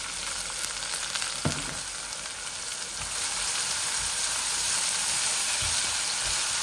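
A small onion drops into hot oil where garlic has already browned, for a Bangladeshi shrimp and banana-stem dish. It makes a steady, dense sizzle that swells louder about halfway through, with no voices.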